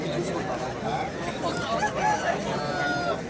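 A country chicken is heard at a busy village poultry market in Vijayawada, with clucking and crowing calls mixed into a dense crowd of chatter and bargaining voices.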